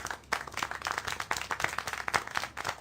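A few people clap irregularly at close range in a mountain hut after a piece of music, the claps fairly faint and scattered over a soft background, with no talking.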